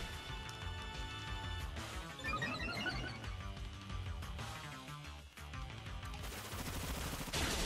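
In the Pokémon Sword video game, the Bullet Seed multi-hit attack lands as a quick run of sharp, popping impacts over game music and effects, faint and fairly even in level.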